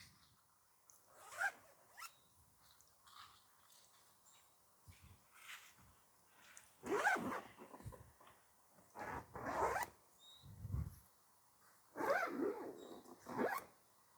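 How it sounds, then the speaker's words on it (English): Several zipper pulls on the windows of a spring steel hunting blind, some long and some short, rasp close by in bursts with pauses between, in an otherwise quiet space. "we're going to go ahead and zipper all of our windows back up"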